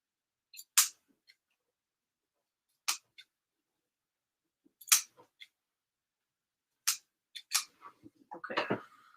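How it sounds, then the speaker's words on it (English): Big scissors trimming the end of a paper leaf for homemade lemon decor, a few separate crisp snips spaced seconds apart, close and fairly quiet in an otherwise silent room, ending in a short rustle of handled paper. "Use some big scissors to trim this."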